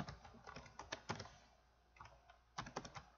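Quiet clicks on a computer keyboard, two short clusters of keystrokes separated by a brief pause, no voices over them.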